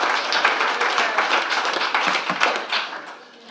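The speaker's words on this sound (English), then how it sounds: "Massive round of applause," An audience at a 2023 intern presentation applauds a company founder, producing a steady patter of many hands clapping at moderate volume that fades slightly near the end.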